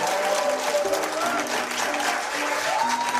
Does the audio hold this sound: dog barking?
no